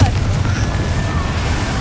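A Confringo spell explosion in the video game Hogwarts Legacy, heard as a loud, deep, steady rumbling boom with faint high whistling spell effects drifting over it, close and continuous for under two seconds.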